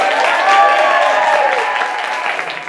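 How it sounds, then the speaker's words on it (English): Audience applause at a convention panel reunion for a stage-play cast, a dense steady wash of clapping mixed with cheering voices, loud and close throughout. "Can we give her a round of applause?"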